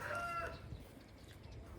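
A chicken gives a short cluck right at the start, then only a faint, steady outdoor background remains.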